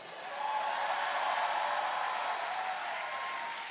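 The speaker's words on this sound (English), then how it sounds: "You're cheering because you know it means you are one step closer to the main attraction, Elizabeth Warren." An audience at the California Democrats convention in 2015 cheers and applauds in a steady, dense roar that swells in and holds for several seconds.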